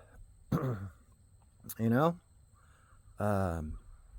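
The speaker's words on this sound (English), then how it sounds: "Sorry, I keep clearing my throat." A man on a rural homestead clears his throat three times in short, rough, voiced bursts separated by brief pauses, close and fairly loud, with smoke in the air.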